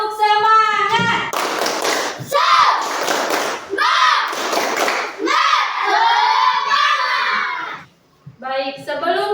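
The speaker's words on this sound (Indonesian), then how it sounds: "Tepuk semangat." A classroom group claps a rhythmic Indonesian spirit clap, with bursts of hand claps and taps alternating with loud shouted group chanting, close and energetic.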